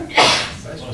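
A single quick sneeze bursts out during a township meeting, sharp and breathy, then fades into quiet room tone.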